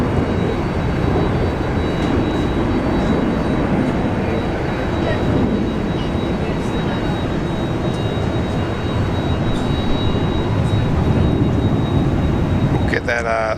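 A jet airliner taking off from Brisbane airport, a loud, steady roar of engines sustained throughout, with people talking over the rumble.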